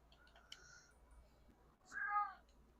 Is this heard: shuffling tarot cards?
no